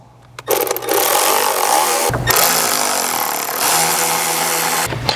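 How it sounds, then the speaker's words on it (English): A power tool runs on T30 Torx bolts, driving them into the airbox lid of a 2021+ Ford Bronco's Roush intake. It makes a loud, sustained, close whir that holds for several seconds and briefly drops out once. "Using the 4 factory T30 Torx bolts, we're going to reinstall them on the lid"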